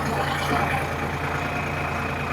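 Tractors working fields for sowing near the India–Pakistan border, a steady low diesel engine drone held constantly for the whole stretch, moderately close, with no clear talk over it.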